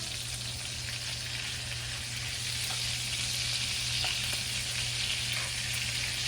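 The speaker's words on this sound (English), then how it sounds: "And we're just gonna carefully flip them over" Jalapeño chicken burgers sizzling in a greasy pan over medium heat, a constant close hiss with a low steady hum underneath and a few faint ticks as the patties are turned.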